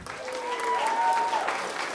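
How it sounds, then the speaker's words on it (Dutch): Audience applause at a Limburg carnival (Vastelaovend) show, greeting the youth prince: dense, steady clapping that swells slightly mid-way and holds throughout, with a few faint tonal whistles over it. "Geef ze nog eens een geweldig applaus."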